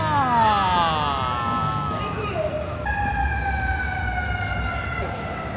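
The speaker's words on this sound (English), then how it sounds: "Every city you go, it's just sirens everywhere." A wailing emergency siren sweeps up and down, loud and nearby, with street noise and faint voices in the background.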